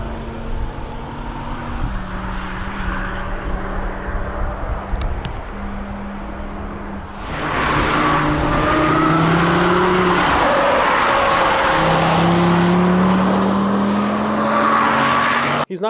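A 2010 Audi R8 engine played back from a recording, droning at steady pitch before surging louder into rising and falling revs with tonal sweeps, sustained and loud throughout.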